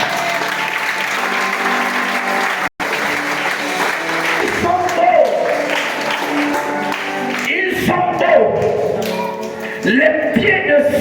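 A church congregation applauds and cheers in praise of the Lord, a dense wash of clapping with a brief dropout early on, while voices ring out and sing over the noisy crowd.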